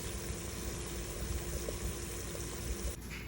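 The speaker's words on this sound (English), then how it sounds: "And you see how it is boiling." Water boils in a pan for South Indian upma, a soft continuous bubbling hiss with faint pops, steady and quiet throughout.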